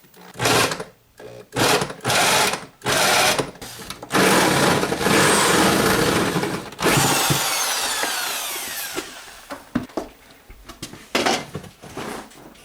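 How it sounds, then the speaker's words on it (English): Power drill whirring in several short bursts while drilling a hole to fish a dryer wire to an electrical box, then a longer continuous grinding run that fades out, followed by scattered clicks and handling noises close by. "I'm going to drill a little hole to fish the wire to the box"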